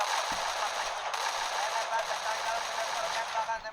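Rapid automatic gunfire crackles through a mobile battle royale match, a dense, continuous burst of loud shots with a commentator's voice underneath.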